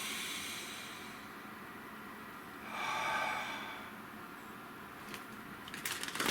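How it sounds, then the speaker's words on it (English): A single slow, deep breath, soft and close over a faint hiss, rising and falling once in the middle before a few small rustles at the end. "Take a nice deep breath."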